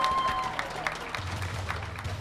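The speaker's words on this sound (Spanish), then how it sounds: "Fuerte los aplausos." Audience applause at a televised talent show gala in Panama, steady clapping at moderate distance filling a short stretch as results are announced.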